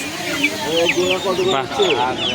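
Young Black Australorp chickens, about a month old, cluck and chirp at a busy hen market in Uluberia, a lively cluster of calls with people talking nearby.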